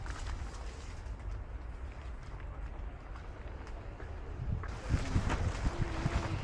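Cold, strong wind outdoors in Baguio blusters into the microphone as a steady roar with rumbling gusts, growing louder and more turbulent toward the end.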